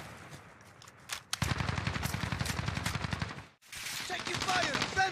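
Rapid automatic gunfire in a shooter video game, dense bursts of rattling shots after a few scattered pops, a short pause, then more firing, with faint player voices under the sound.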